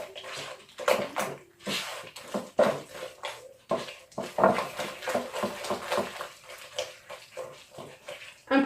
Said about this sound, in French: On va mettre un œuf. Donc vous mélangez bien.